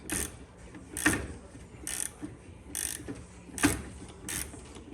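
A tool is twisted on the supercharger pulley of an Audi B8.5 S4, giving six evenly spaced ratcheting clicks about a second apart, fairly quiet and close, with no talking.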